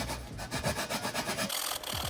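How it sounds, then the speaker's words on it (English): A hand file rasps back and forth across craft foam to smooth it, giving a quick series of close, scratchy strokes in a steady rhythm, with no talking. "Now I'ma just file it down with this and smooth it out."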